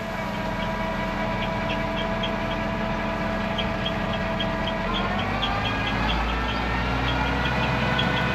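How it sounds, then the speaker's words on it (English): A tractor engine idles steadily with its PTO engaged and running during hay-making and post-hole setting, a continuous close mechanical drone with a faint repeating tick and a slight shift in pitch partway through. "On goes the PTO."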